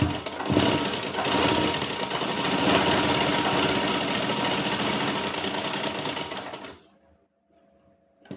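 Sewing machine running steadily as it stitches the fitting seam on a kurti sleeve, a loud continuous mechanical whir that stops abruptly near the end, leaving near silence.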